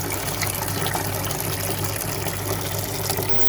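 Water gushes and splashes steadily into a garden pond filter. The flow is a continuous, fairly loud wash with no pauses and no voices.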